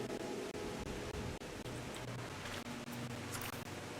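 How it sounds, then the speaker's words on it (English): Rain in the Final Fantasy 14 video game: a dense, even hiss of steady rainfall with faint low hum beneath and a few soft ticks, constant throughout and quite quiet, no speech. "And it's raining here."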